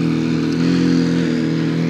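A Corvette engine idles with a steady low rumble, then revs and rises as the car starts to pull away, loud and close.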